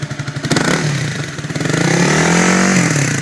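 A Honda CBR250R motorcycle engine loping at idle, then revving up into a loud, sustained throaty roar from a custom exhaust, recorded up close.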